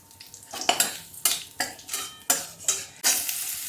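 Panch phoron, dried chillies and bay leaf frying in a pan as asafoetida goes in, with repeated stirring scrapes and clinks of a utensil against the pan over a steady sizzle, close and moderately loud.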